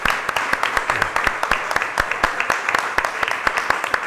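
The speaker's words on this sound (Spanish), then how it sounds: "gracias otra vez Luis, un aplauso para él" Audience applause for a guest speaker at the El Cíclope 2023 talk event, a steady patter of many hands clapping through the whole stretch with a few sharper individual claps standing out.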